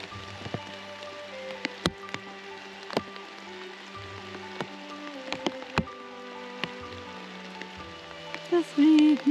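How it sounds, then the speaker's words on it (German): Rain falls steadily on a forest hike in the Thuringian Forest, with scattered distinct drips and taps over a quiet soft background. "regnet und regnet und regnet."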